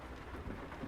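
Steady rain with a low rumble of thunder in Euro Truck Simulator 2 on a UK road, a faint, even hiss with a soft low roll underneath and no voices.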